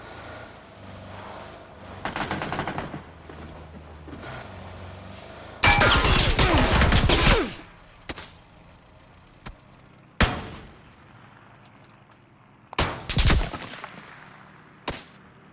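Gunfire in the battle-royale video game PUBG: a long, loud automatic burst, then scattered single shots and short volleys at varying distances, with several sharp bangs standing out.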